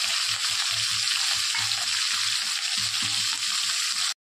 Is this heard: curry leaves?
yes